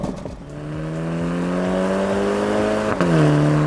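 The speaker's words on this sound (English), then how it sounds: "now we've got this sort of 4-pot thrum, which is not terribly interesting." A BMW M135i's four-cylinder engine holds a close, steady droning thrum that climbs slowly in pitch, dips briefly near the end, then settles again, with no talking.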